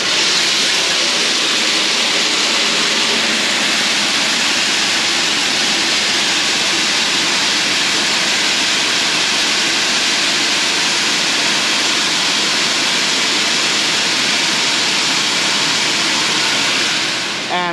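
Horse feed pours from a tractor into a feed bin as a loud, steady rushing hiss that continues without a break for the whole stretch.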